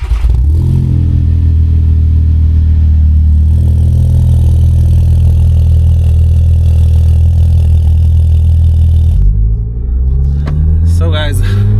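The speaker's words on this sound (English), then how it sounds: "one thing about this exhaust system is the tone is completely different from the stock Polo GTI tone" A tuned Stage 1+ VW Polo GTI engine and aftermarket exhaust give a loud, close, steady drone that rises in pitch as the car accelerates and then drops back, with a voice speaking briefly near the end.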